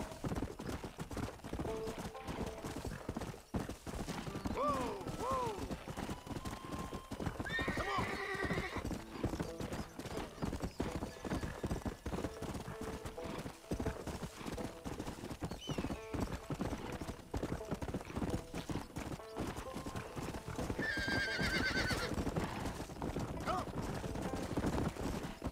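Horse hooves clip-clop steadily at a gallop in the Red Dead Redemption Remastered game, with occasional whinnies and game music, while someone talks over them.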